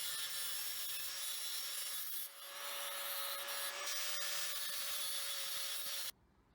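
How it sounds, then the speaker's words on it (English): Continuous high-pitched grinding as a metal weld is ground and shaped into small thorn shapes, a steady abrasive whine with a faint tone, briefly dipping once before stopping abruptly. "that weld is ground and shaped into little thorn type"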